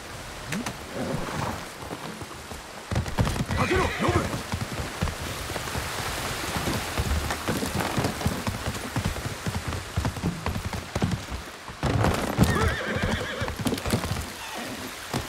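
A horse in the Ghost of Tsushima video game whinnies loudly and its hooves clip-clop steadily, set against a constant rain-like wash, with a second neigh rising near the end.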